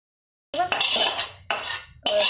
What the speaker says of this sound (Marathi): शिजली आता ही मिरची काढून घेऊ आपण. एका प्लेटात काढून घेऊ.